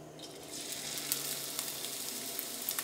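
Ginger, green chilli and garlic paste sauté in hot coconut oil for a Malabar meat box dish, giving a loud, bright sizzle that swells and crackles steadily, with faint stirring and no talk.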